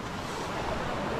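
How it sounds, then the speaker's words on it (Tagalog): Sea waves wash steadily around a small boat at sea, a short burst of even, hissing surf and wind at moderate loudness with no talk. "Apa, may alon sa laot, may alon."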